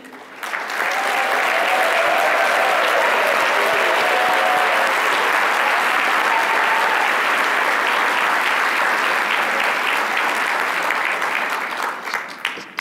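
A conference audience applauds executive directors as they stand, sustained loud clapping from a large room that swells in, holds steady for several seconds, and tapers off at the end.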